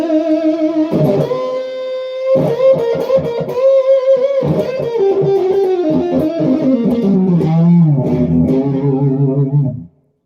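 Eric Clapton signature Fender Stratocaster played with the neck and middle pickups together, a run of sustained, slightly driven single-note and chord phrases ringing out loudly, then stopping abruptly.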